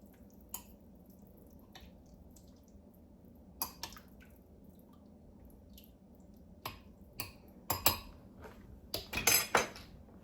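A utensil stirs a thick, bean-filled soup in a pot, making scattered wet clinks and squishy scrapes over a quiet background that grow busier and louder toward the end.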